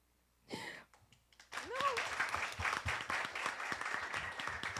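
A short voice is followed by a crowd breaking into sustained, dense applause and clapping.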